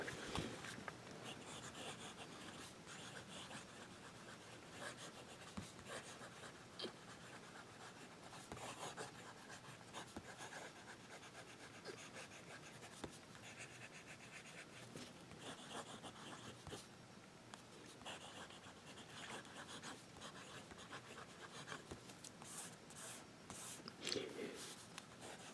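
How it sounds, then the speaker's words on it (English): A Visconti Van Gogh Pollard Willow fountain pen with a fine, smooth nib scratches softly across paper, faint close rubbing strokes in irregular bursts over a quiet background. "ride on the paper and see how this pen writes"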